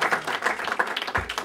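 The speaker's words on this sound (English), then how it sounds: "And we should applaud you." A short burst of audience applause from a crowd at a film society screening event, a steady patter of many hands clapping at moderate volume.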